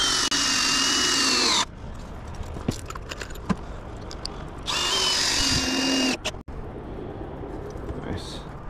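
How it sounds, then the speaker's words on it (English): A power drill backs screws out of a homemade tree stand in two loud, close whirring bursts, with quieter rustling, handling noise and faint voices in the pause between them. "let's finish screwing all this stuff off"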